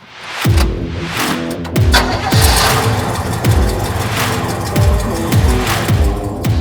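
A cold-natured big block engine in an El Camino fires up and roars loudly nearby, then is revved in a steady series of about six rising-and-falling blips roughly a second apart.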